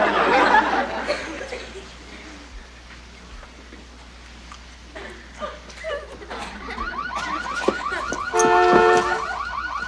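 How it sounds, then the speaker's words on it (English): A car alarm goes off in a sitcom scene, its loud warbling, cycling electronic tones rising in the last few seconds after a stretch of background laughter and murmur. "Alarm scared him off."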